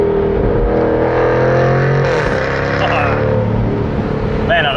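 A Jaguar F-Type R at full throttle gives a loud, close, sustained engine roar that climbs in pitch, drops sharply on an upshift and then builds again.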